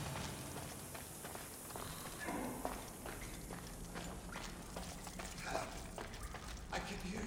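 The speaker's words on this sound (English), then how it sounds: "we're going to head all the way over here with our good old trusty horse" A horse's hooves clop in Assassin's Creed Odyssey, a quick uneven gait over a busy ambient game soundscape, faint and partly buried in the mix.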